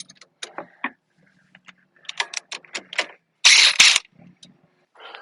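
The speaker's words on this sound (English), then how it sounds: "I can remove this bolt right here" A ratchet working the nut and bolt free from the rear suspension link of a Honda CRF300L dirt bike, heard as several short bursts of close, dry clicking with a louder rasping run near the end.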